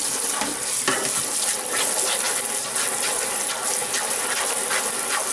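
Steady splashing, swishing wash of warm soapy water as a PEI build plate from a Flashforge Adventurer 5M Pro is scrubbed clean with dish detergent, close and continuous with no talk.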